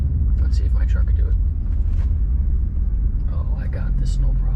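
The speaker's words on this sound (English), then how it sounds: "I have to make a U-turn here. Let's see if my truck can do it." A truck's engine rumbles low and steady as it swings through a U-turn on a Sheepshead Bay, Brooklyn street, with someone talking over the drone.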